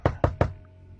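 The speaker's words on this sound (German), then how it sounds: "7 Klopfer? Wieder 7 Klopfer." Three sharp knocks on a hard surface in quick, even succession, captured in a ghost-hunting recording, followed by a quiet, humming room with no talk.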